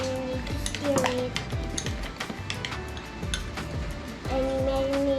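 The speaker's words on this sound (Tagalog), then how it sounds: "stir it" Metal utensil scraping and clinking against a pan while shawarma rice with garlic, sugar and sauce is stirred, giving irregular knocks and scrapes with a few ringing pings, close and moderately loud.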